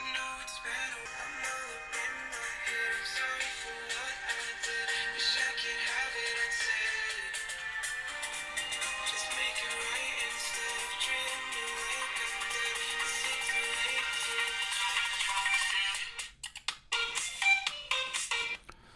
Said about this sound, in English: The device just has a single loudspeaker, but let's see how does it sound.